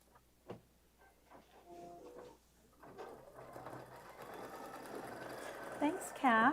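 Embroidery sewing machine stitching a detailed design over Mylar, its rapid mechanical whir rising and growing louder toward the end, with soft talk beneath at times.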